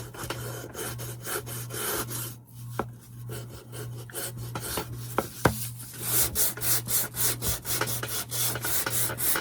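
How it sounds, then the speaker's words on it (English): A small finger sander distresses a painted wooden birdhouse, giving steady close rubbing and rasping that grows rougher and more pulsed toward the end, with a constant low hum underneath. "I'm just taking my finger sander and I'm going to distress it pretty good"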